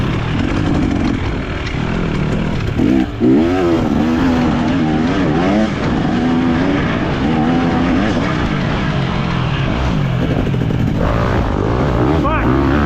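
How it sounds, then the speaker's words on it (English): A four-stroke dirt bike engine drones with a steady buzz during a race, rising and falling in pitch as it revs, with voices talking over it. "Do you hear that four-stroke behind me?"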